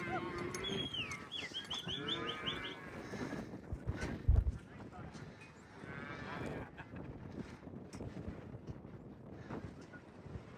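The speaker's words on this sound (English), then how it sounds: "Putting the cows back in the holding pasture." Cattle moo repeatedly in a cold, snowy outdoor setting as cows are driven back to a holding pasture after branding, with steady wind noise over the microphone and a few calls overlapping one another.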